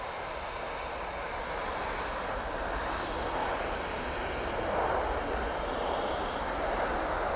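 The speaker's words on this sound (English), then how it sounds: "The Ryanair is on the roll," A Ryanair airliner powers down the runway on its takeoff roll at Manchester Airport, a steady, loud broadband engine roar that holds constant throughout with no talk over it.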